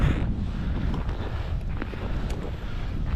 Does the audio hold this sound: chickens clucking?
no